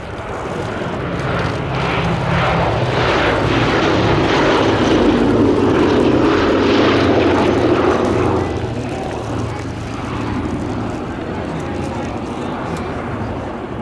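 Sally B, a B-17G bomber built at Lockheed Vega's Burbank plant, roars overhead at an air show with a loud, sustained piston-engine drone that swells and then fades slightly, under a commentator's voice.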